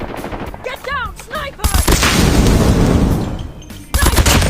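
Gunfire in the video game Call of Duty Mobile, a loud burst of rapid automatic shots following a few short game sounds, with more shots at the end and a voice talking briefly before.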